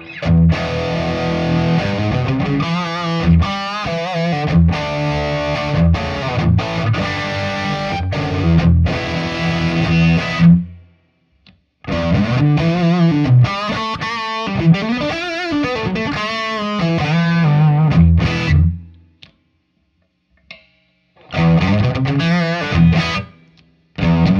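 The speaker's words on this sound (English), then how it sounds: "let's hear a little bit of distortion with it." A loud, distorted PRS SE electric guitar plays gritty riffs and sustained notes, broken by two brief pauses into silence before starting up again.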